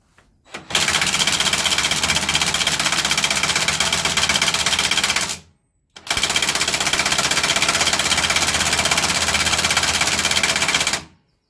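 Impact wrench with a 24mm socket undoing a nut on the snapped front axle of a Westwood Gazelle W11 ride-on lawn mower, two long loud rattling hammering bursts of about five seconds each, separated by a brief pause.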